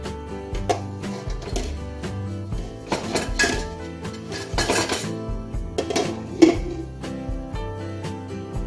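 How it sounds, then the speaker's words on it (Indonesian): A metal pot lid lifted off while steamed lumpur cake cooks for a Minang recipe, giving several clear clinks and clatters of lid and cookware close by, over a steady low background. "Kita buka tutupnya."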